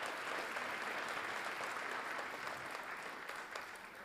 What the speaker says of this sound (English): how about another round of applause to all of our award recipients?